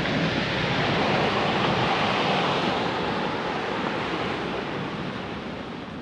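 Sea waves breaking on the beach at Tenneti Park in Vizag, a broad continuous roar of surf that slowly eases, with no voices.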